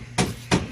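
Two sharp hammer blows land about a third of a second apart, loud and close, each a hard impact with a brief ringing decay, with no voices.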